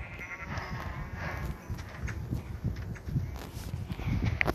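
Sheep bleating in a video game, with footsteps and other game sounds, fairly quiet and steady, no talking.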